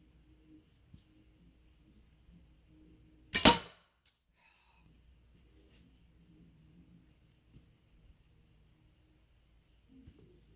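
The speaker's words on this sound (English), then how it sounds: "I just broke an arrow." A wooden arrow shot from a bow strikes a frozen hay bale target and snaps, a single sharp loud crack standing alone against a quiet background with faint rustling around it.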